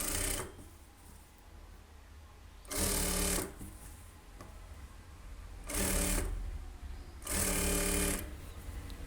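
A sewing machine runs in three bursts, each a few seconds long, as it stitches piping onto a blouse lining. The whirring is loud and close, with quiet pauses between bursts.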